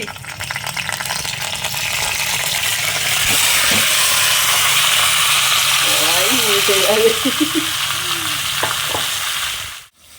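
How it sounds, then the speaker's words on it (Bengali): Loud, steady sizzling and hissing of chicken frying in a little leftover oil in a hot wok, with stirring and a voice heard briefly in the middle. "সেই কড়াইতেই দিয়ে দিচ্ছি চিকেনটা"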